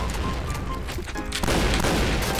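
Rapid gunfire in the online shooter Point Blank, a dense burst of loud shots and booms with a brief lull before firing resumes harder, continuous and close.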